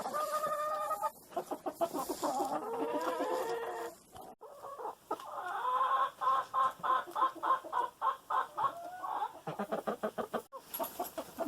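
Wyandotte chickens cluck and murmur close by, a run of rhythmic, repeated clucks with short pauses, clear and fairly loud with no voices.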